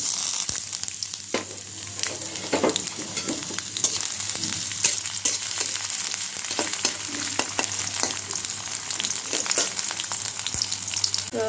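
Dried red chilies and garlic fry in hot oil with a steady, close crackling sizzle, broken by occasional sharp pops and stirring clinks. No one speaks.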